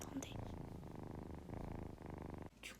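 A domestic cat purring up close, a steady rhythmic rumble with soft pulses throughout, briefly dipping near the end; no clear talk over it.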